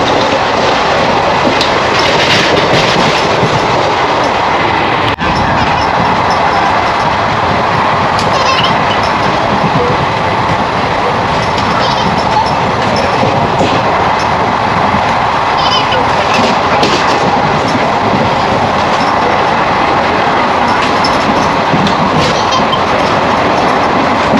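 Inside a moving passenger train at night near Borivali station, a loud continuous rumble with rhythmic wheel clatter fills the whole stretch, steady and close, with faint voices buried underneath.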